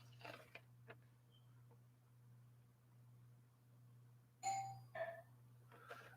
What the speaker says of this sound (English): somebody's ringing the bell right in the middle of my show